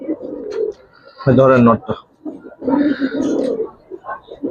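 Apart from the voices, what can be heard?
Giribaz pigeon cooing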